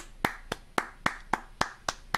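A single person claps by hand in a steady, evenly spaced rhythm of eight crisp, close claps with quiet gaps between them.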